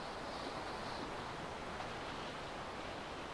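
Ocean waves in the Sailwind sailing game: a steady, broad rush of surf and wind around a sailing ship, constant and fairly loud, with no distinct breaks and no talking.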